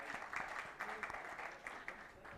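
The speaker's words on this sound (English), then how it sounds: "So can we have a big round of applause" Audience at a renewable energy security conference applauding a speaker, a fairly faint, uneven patter of clapping with a few sharper bursts, heard from a distance.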